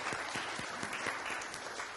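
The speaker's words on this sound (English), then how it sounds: "I want to say big applause from all of you for Malaji" A crowd at a Hindi Divas event claps steadily, a dense patter of many hands at moderate distance, with no pauses and no cheering.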